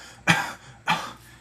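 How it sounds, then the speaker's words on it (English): Two short, close coughs follow each other about half a second apart, each a harsh burst that fades quickly, with quiet in between and no speech. "a cough"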